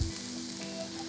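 Garlic and ginger sauté in about two tablespoons of hot oil for seafood fried rice, giving a short, steady sizzle with a louder burst at the start and end, no voices.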